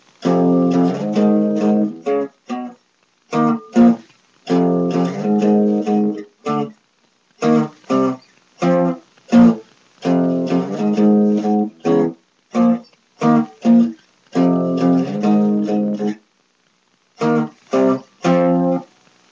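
Chunky distorted guitar power chords from the bridge of a song, played in short rhythmic bursts with brief gaps, loud and close, sliding between positions with no voices.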